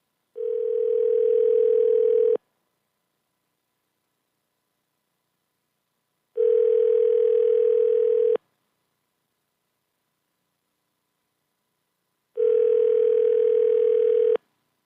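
An outgoing telephone call ringing out: three steady ring tones of about two seconds each, separated by roughly four-second silences, clear and alone with no talk.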